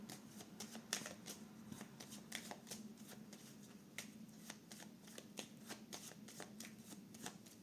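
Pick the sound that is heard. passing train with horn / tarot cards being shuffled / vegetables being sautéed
tarot cards being shuffled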